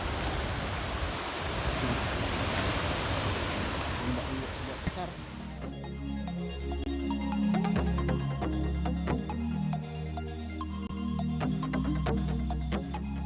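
Sea waves at Lhok Ketapang Cut wash in a dense, steady rush of surf that drops away midway, giving way to a low humming background with scattered knocks.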